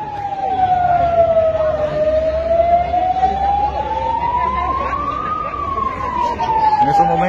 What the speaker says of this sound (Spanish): las sirenas también están sonando para advertir de que todos deben salir a lugares más seguros